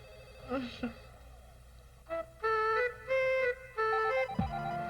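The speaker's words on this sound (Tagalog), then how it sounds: "Uy, cellphone mo, nagre-ring." A cellphone rings in three loud, steady bursts of a bright electronic tone, each about a second long with short gaps, after a brief vocal sound at the start.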